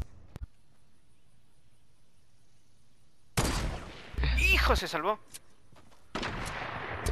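Gunfire in the video game Fortnite comes in a burst of loud shots after a quiet stretch, with excited voices talking and shouting over the action.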